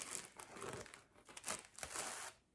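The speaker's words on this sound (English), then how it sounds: "And we're unwrapping the next bag here." A plastic bag holding yarn is unwrapped, giving loud close crinkling and rustling in several bursts with no talk.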